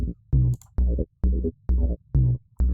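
Noisebud YAS audio plugin shaping the low end of a track with its limiter switched off: a loud, bass-heavy pulse repeats about twice a second in a steady rhythm, with short gaps between hits and no voices.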